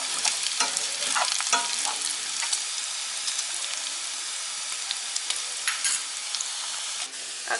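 Onions sautéing in a pan with bacon, a steady broadband sizzle and crackle running throughout with occasional scraping stir strokes, close and fairly loud, no talking.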